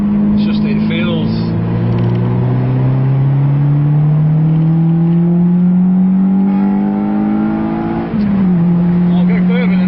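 A Honda Civic Type R EP3 accelerates hard in second gear, its engine note climbing steadily and loudly toward a high pitch before dropping at a shift, heard from inside the car over a constant drone.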